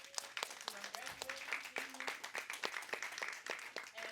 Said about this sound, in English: So let's give another big round of applause.